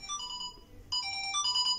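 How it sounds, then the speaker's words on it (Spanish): A mobile phone ringtone plays a bright, repeating electronic melody of short tones, moderately loud and close, in a quiet room. "está sonando el teléfono de mi esposo"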